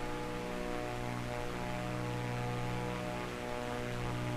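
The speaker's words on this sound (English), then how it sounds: "This is the Cessna Corvallis TT, please" A Cessna Corvallis TT propeller aircraft in Microsoft Flight Simulator 2024 drones steadily at a constant engine pitch, with a smooth, even cabin hum that continues alone without change.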